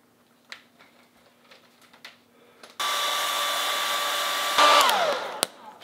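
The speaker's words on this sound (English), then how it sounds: "get the hair dryer." A hair dryer dries washed parts of a Singer 15-91 sewing machine. Light tapping and clicks come first, then the dryer starts with a loud steady whoosh and briefly rises in pitch before switching off with a click.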